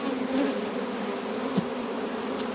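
Angry honey bees at an opened hive in early spring, a dense continuous buzz close by, steady and loud with slight swells in pitch.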